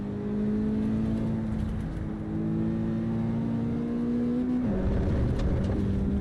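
A race car engine in Assetto Corsa Evo revs steadily and loudly, holding a high drone that climbs through a gear before dropping and settling again, with no voices over it.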